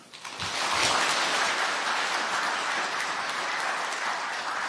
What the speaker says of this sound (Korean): 사단법인 대한노인회 이중근 회장님께 다시 한번 큰 박수 부탁드립니다.